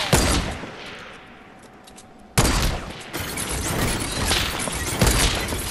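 Heavy bursts of video game gunfire ring out: a blast at the start that trails off, then a sudden loud onset of sustained rapid fire that continues to the end.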